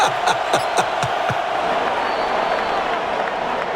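A stadium crowd roars and cheers in steady, dense waves after a Buffalo Bills win in a snowy Madden 26 game, with a few sharp claps or hits near the start before the broad crowd noise holds at full level.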